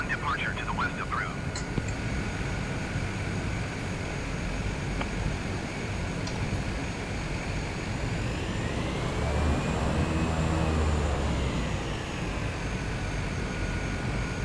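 A Cessna in Microsoft Flight Simulator revs for takeoff, its propeller engine droning steadily and swelling in pitch as it accelerates, loud and continuous throughout.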